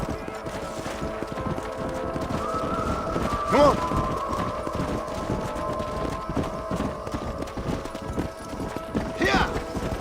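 Horses' hooves clip-clop steadily in the Red Dead Redemption video game, fairly near and continuous, with a brief whinny-like cry and a short spoken line over the riding.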